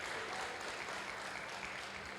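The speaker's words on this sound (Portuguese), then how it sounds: "Pode aplaudir." Church congregation at a youth worship service applauding, a continuous wash of many hands clapping together, steady and diffuse, heard from within the hall at low level.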